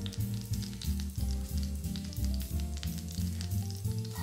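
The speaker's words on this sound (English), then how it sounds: "We go right into our pan with these beautiful prawns." Prawns hit a pan of butter and sizzle softly and steadily, with crackling spits scattered over a low, even hum.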